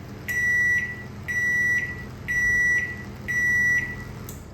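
Samsung ME731K microwave oven running with a low steady hum, punctuated by four evenly spaced high electronic beeps, loud and close, no voices.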